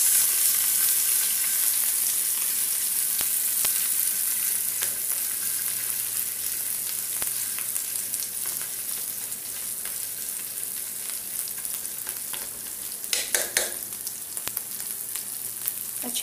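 Fish frying in hot oil for a sambal dish, a dense steady sizzle with scattered pops and a burst of crackling near the end, close and loud, with no speech.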